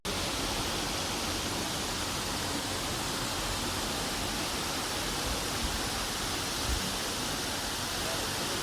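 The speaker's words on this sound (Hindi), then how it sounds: "यह है मुनस्यारी का बिर्थी वाटरफॉल।" Steady broadband roar of the Birthi waterfall near Munsyari, Uttarakhand, a constant, loud wash of falling water that carries on without a break and with no voices.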